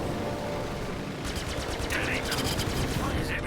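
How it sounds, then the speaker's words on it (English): Machine gun fire in the space game Star Citizen rattles in rapid bursts over a constant engine-like rumble, growing busier partway through. "It's better to take the machine gun fire."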